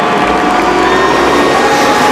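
A race crowd roars at the start of the 2002 Pennsylvania 500 at Pocono, a loud, dense and continuous wash of cheering with no voice rising above it.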